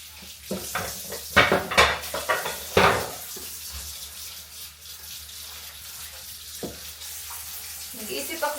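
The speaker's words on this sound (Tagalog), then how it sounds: "So, hugas-hugas muna tayo." Dishes being washed at a kitchen sink, with running tap water, clattering pots and cutlery in irregular bursts, then quieter rinsing; close by, with a little background voice.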